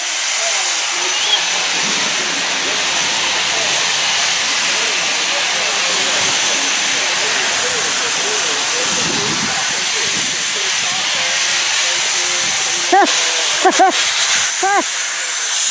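A diesel locomotive engine runs inside a railway workshop, giving a loud, steady rumbling roar with a thin high whine over it for the whole stretch, while faint voices are heard now and then.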